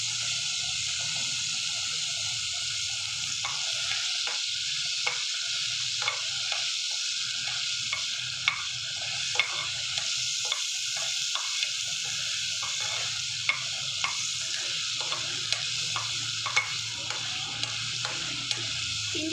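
Chana dal frying in oil while being stirred, a constant hissing sizzle under a rapid series of spatula scrapes and taps against the pan, close and steady throughout.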